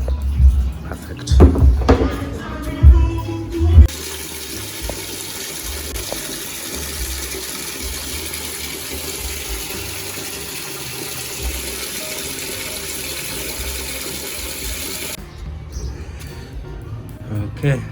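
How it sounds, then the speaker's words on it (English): Water gushing from a long hose run out from a bathroom into an empty, dirty barrel, a steady broadband rush after a few seconds of clunks and bumps, with a person talking at the start. "Okay, so I've decided to fill this other barrel with water."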